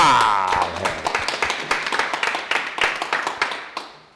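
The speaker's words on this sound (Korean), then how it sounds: "큰 박수 부탁드립니다." An audience at a Korean talk gives a round of applause, a room full of hands clapping in quick, uneven bursts that thin out and trail off. A voice is briefly heard at the start.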